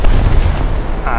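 Loud, heavy gunfire booms from the M4A3 (105) tank in War Thunder, a dense rumbling blast that fills the short moment with low-end weight.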